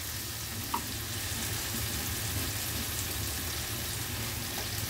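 Spices and chopped tomato frying in oil for a spicy Kerala chicken dish, giving a steady, continuous sizzle with fine crackling that holds evenly throughout, close and unbroken.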